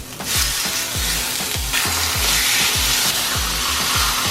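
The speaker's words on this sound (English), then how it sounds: "You wanna hear this thing sizzle" Steaks seasoned with salt and ground black pepper sizzle steadily in hot oil in a pan, a loud, continuous frying hiss with no talking.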